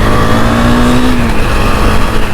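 A Husqvarna Vitpilen 250, a 250cc motorcycle, is heard while riding: a loud, close engine drone with wind rush and a pitch that climbs briefly as the throttle opens.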